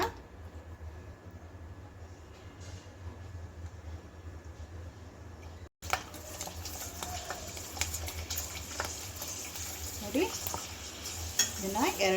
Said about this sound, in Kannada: ಈಗ ನಾವು ಮಾಡಿರೋ ಹಪ್ಪಳನ ಎಣ್ಣೆ ಒಳಗಡೆ ಹಾಕ್ಕೊಳ್ಳೋಣ